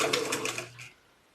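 A sewing machine stitches a contour fisheye dart in fabric, a steady close whirring run for about a second that then stops into near silence.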